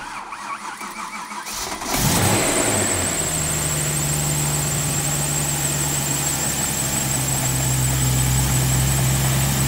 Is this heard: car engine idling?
yes